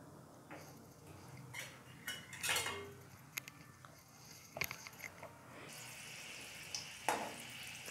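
Garlic cloves dropped into a little mustard oil in a pan give a faint, sparse sizzle broken by scattered clinks and taps of utensils against the cookware, with no one speaking.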